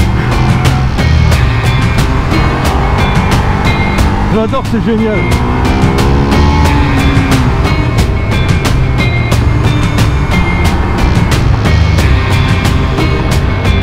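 A Ducati XDiavel motorcycle engine growls loud and close at steady revs, with a quick run of popping backfire crackles, while a rider talks over it.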